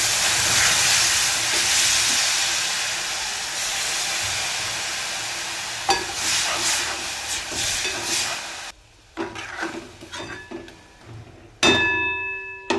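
About a quarter kilo of jaggery with a little water heats in a wok, giving a strong, steady steamy hiss that fades into quieter bubbling, clinks and short bursts of sizzle, with no speech.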